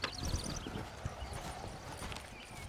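Horse hooves clip-clop in a quick, uneven rhythm while pulling a carriage in Red Dead Redemption, with a brief whinny and faint wheel rumble underneath, moderately close but fairly quiet.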